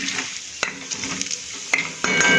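Sesame seeds and cashews crackle and sizzle in hot oil in a pan while making upma, with a steady frying hiss, a few sharp pops and clinks of a stirring spoon against the pot, close and fairly loud.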